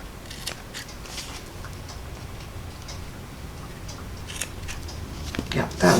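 Scissors snip at ribbon on a handmade card, a few quick close cuts over a faint room hiss, the last snip louder with a rustle.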